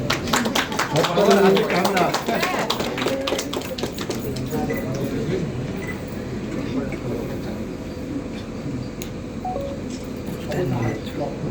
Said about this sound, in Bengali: একটু হাততালি দাও না কেন